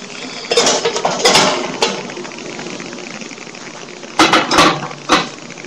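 A metal muffin pan being handled in a home kitchen, with two clusters of sharp clanks and rattles separated by a quieter stretch of low background hum.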